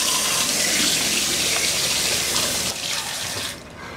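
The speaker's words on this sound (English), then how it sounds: "And it drained out the HepVo valve." Water runs steadily from a skoolie kitchen sink and drains out through a HepVo waterless drain valve, a loud continuous rush that eases and drops away near the end.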